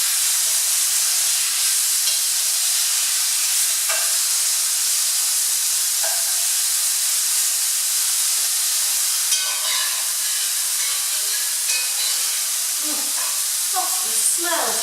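Lamb meat frying in a pan for a tagine gives a steady, loud sizzle and hiss that runs throughout, with a few faint clinks and scrapes near the end.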